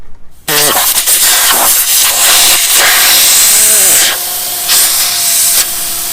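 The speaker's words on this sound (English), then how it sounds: "Just gonna let the tyres down, it's going down to 18 psi." Compressed air hisses loudly and steadily out of four-wheel-drive Ford Ranger tyres through screw-on Storm deflators preset to 18 psi for beach driving, a continuous broadband rush with small shifts in pitch, heard alone and close.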